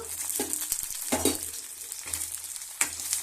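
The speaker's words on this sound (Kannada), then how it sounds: "ಈರುಳ್ಳಿ ಫ್ರೈ ಆಗಿದೆ ನೋಡ್ರಿ" Sliced onions fry in oil in a pan for a brinjal dish, a soft, steady sizzle with a few light stirring scrapes and clinks, close by and fairly quiet, with no talk.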